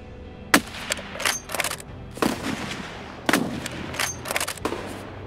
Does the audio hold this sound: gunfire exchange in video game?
yes